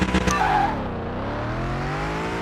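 A car in Car Mechanic Simulator 2021 launches with a loud, close engine roar that rises and then bogs into a steady, droning hum.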